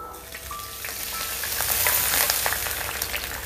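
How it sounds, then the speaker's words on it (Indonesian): Coarsely chopped, crushed garlic sautéing in a pan while cooking lontong mie Surabaya, a steady close sizzle of hot oil that grows slightly louder, with small crackles and pops and no talking. "Ditumis-tumis sampai mengeluarkan aroma yang harum ya."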